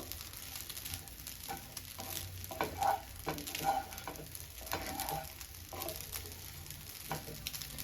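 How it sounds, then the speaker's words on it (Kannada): Veg fried rice with masala stirred and fried in a pan: a steady close sizzle runs throughout, broken by repeated scraping and tapping strokes of a spatula, with a few louder clinks near the middle and no talking. "ಆ್ಯಂಡ್ ಈ ಮಸಾಲ ಕೂಡ ರೈಸ್ ಜೊತೆ ಚೆನ್ನಾಗಿ ಮಿಕ್ಸ್ ಆಗಿ ಫ್ರೈ ಆಗಬೇಕು"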